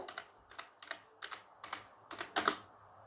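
Fingers type a document title on a computer keyboard, about eight quick separate key clicks in an uneven rhythm, close and fairly quiet, the last strokes slightly louder.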